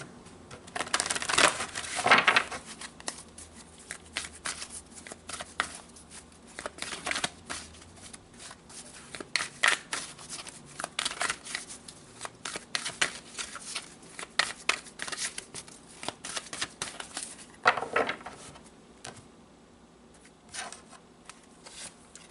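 Tarot cards are shuffled by hand in repeated bursts of crisp riffling and soft slides, near and fairly quiet, with pauses between rounds and no talking.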